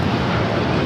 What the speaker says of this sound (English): We do have a United Dreamliner now taking off.